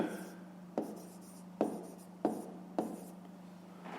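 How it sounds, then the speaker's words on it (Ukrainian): Pen writing on paper during a fifth-grade maths exercise, giving short scratchy strokes in several distinct bursts with quiet gaps between, close to the microphone over a steady low hum. "Пишемо."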